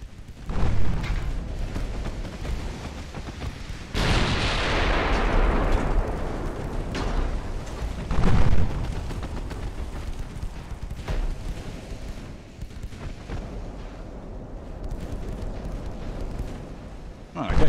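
Naval guns firing in Ultimate Admiral: Dreadnoughts, with loud booming blasts and rolling rumbles scattered through the scene over a continuous battle din.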